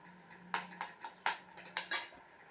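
A spoon stirring mango halwa in a pan, heard as six sharp metallic scrapes and clinks in an uneven rhythm, close and fairly quiet over a faint low hum.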